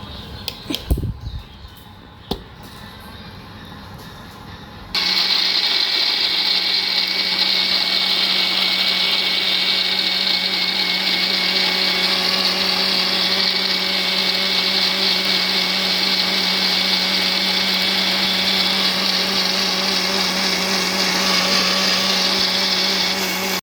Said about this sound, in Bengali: এখন এগুলো সব ব্লেন্ডারে ভাঙাই